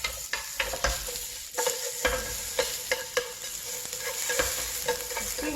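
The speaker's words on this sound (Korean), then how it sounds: "자, 그 다음에 당근 볶을 거예요" Blanched carrots stir-fried in a pan during a Korean cooking class, a steady oily sizzle punctuated by a rhythmic series of sharp spatula scrapes and taps against the pan, close and clear with no talking.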